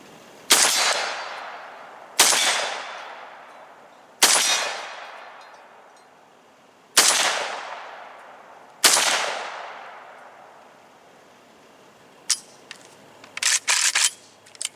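An AK rifle fitted with a flash suppressor or muzzle brake fires five loud single shots spaced about two seconds apart, each a sharp crack with a long ringing decay, followed by a few quick clicks and rattles.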